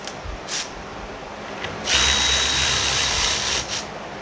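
Power tool backing out 11mm bolts from the relay center of a Chevy Impala, a few short whirring bursts followed by a longer steady run of about two seconds, close and fairly loud with no talk.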